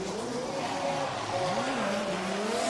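A Formula Drift Japan round 4 drift car spins out at competition speed, tires skidding and squealing over a steady, loud engine roar that holds through the whole moment, with a faint voice underneath.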